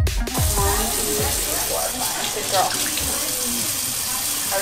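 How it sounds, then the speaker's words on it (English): Running water from a kitchen tap as dishes are washed, a steady continuous rush with faint clinks and some low background voices near the start. "Are you washing dishes?"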